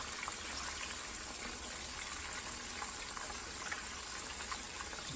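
A whole crappie deep-fries in oil in a deep fryer, giving a soft, steady bubbling hiss heard alone at low to moderate level.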